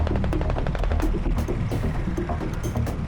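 Rapid, loud bursts of automatic gunfire from a moving armoured vehicle during a milsim exercise, over a heavy engine rumble, the shots coming in quick repeated volleys.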